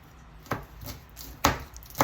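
Three sharp knife chops on a cutting board while tomatoes are sliced in a home kitchen, spaced unevenly over two seconds, close and crisp with quiet pauses between.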